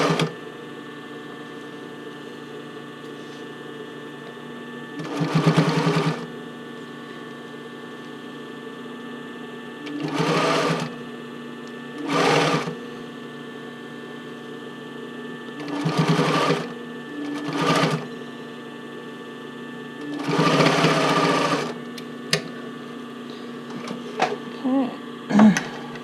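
A sewing machine stitches the casing onto a bra in several short bursts, each lasting about one to two seconds, separated by pauses. A steady electrical hum runs underneath and quieter handling noises fill the gaps.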